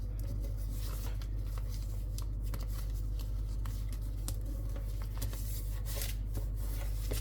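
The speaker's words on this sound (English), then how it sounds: "we're going to fold this up along the body of the jet, crease it" Origami paper folded and creased into a fighter jet, close crinkling and rubbing of paper with sharp little crackles, set over a steady low electrical hum.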